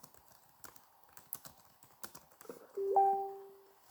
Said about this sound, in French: j'entends les bruits de clavier